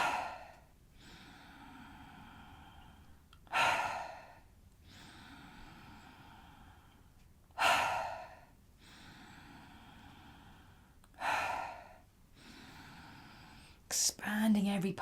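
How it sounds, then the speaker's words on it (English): Deep breathing exercise with slow, full breaths: four loud breath bursts arrive roughly every four seconds, sharp audible inhales or sighing exhales, separated by quieter airy breathing and a soft background hum. "Filling the belly, filling the chest, and letting go. Full deep breaths."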